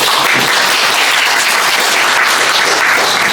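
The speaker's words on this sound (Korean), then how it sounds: "큰 박수로 맞아주세요" Loud, dense applause from an audience at a women's wellness class as a speaker is welcomed, a steady roar of many clapping hands with no pauses.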